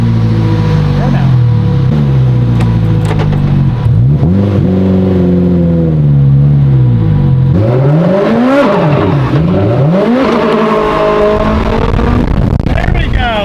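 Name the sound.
Honda NSX doing a burnout, engine revving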